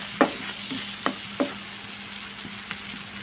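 Spices frying in a pan for a sweet, sour and spicy raw mango pickle, with a soft continuous sizzle under a few sharp spoon scrapes and taps as the masala is gently stirred.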